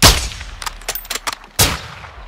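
Gunfire in Call of Duty Modern Warfare 2, a loud sharp shot followed by a quick cluster of smaller cracks and clanks, then a second heavy blast with a ringing tail.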